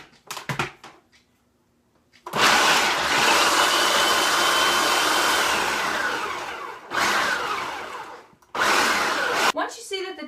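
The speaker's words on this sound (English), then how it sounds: "We'll put the lid on the processor and just pulse that to a nice crumble." A food processor pulses walnuts and Ceylon cinnamon into a crumble topping for an apple walnut crumble: a few short whirs, then three loud grinding bursts of several seconds each with brief pauses between.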